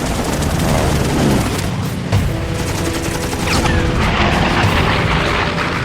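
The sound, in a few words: P-40 Tomahawk fighter planes opening fire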